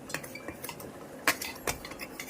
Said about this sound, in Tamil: ரவையோட சர்க்கரையும் நல்லா கலந்துக்கலாம், மிக்ஸ் பண்ணிக்கலாம்.